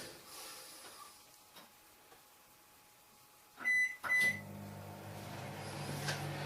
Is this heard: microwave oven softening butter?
yes